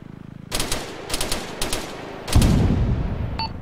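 Rapid automatic gunfire rattles in a military video game, with several short bursts followed by a longer, louder volley. The shots are close and harsh, and no voices sound over them.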